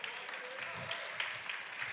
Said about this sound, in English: Now it's Hanover Central's coaching staff and bench's turn to applaud their team's defensive efforts